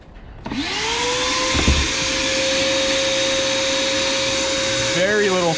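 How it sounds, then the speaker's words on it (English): An As Seen On TV vacuum cleaner switches on and runs with a steady, loud motor whine and rushing airflow, its pitch shifting briefly as it works, with no talking. "Very little suction. It's definitely not my vacuum."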